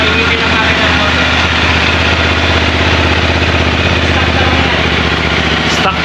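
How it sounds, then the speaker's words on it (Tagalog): Idle from a QJMOTOR adventure motorcycle running its stock exhaust pipe, a loud and steady close-up rumble that holds without a break for the whole clip. "stock pipe pa lang pero may parang roar na ng leon"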